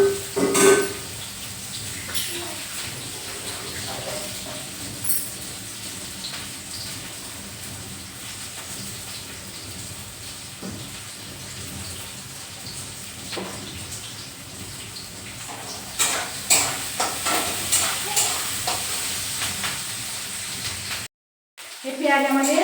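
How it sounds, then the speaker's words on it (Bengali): Onions frying in oil for chicken chowmein give a steady, close crackling sizzle with scattered pops, broken by a brief silence near the end. "এই পেঁয়াজ আমাদের প্রায় ভাজা ভাজা হয়ে এসছে"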